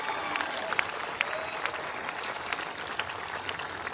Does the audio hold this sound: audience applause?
yes